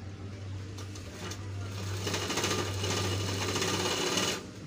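A sewing machine runs steadily while stitching the edge of a belt loop on a pair of pants, a close, continuous motor hum with a fast needle rattle and a brief stop near the end.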